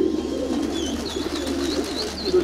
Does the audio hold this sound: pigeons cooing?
yes